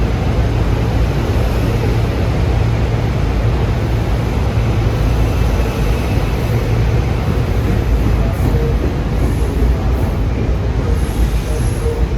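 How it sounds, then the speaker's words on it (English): A Silverliner 5 commuter train bound for Wilmington, Delaware passes close by with a loud, steady broadband roar of wheels and rails that stays continuous throughout, with no pauses. "Here comes train 9241 for Wilmington, Delaware, with more of those 5s."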